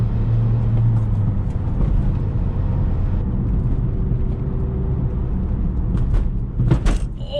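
A car jolts along a rough backroad, a loud steady rumble of engine and road noise with a few sharp knocks and rattles near the end, without any talking.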